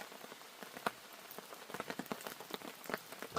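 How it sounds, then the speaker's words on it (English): Rain drumming on a camping shelter near Ben Nevis grows heavier, dense close patter with frequent sharp drops over a steady wash, rising slightly toward the end, no voices. "Oh, this rain sounds good. It's getting heavier."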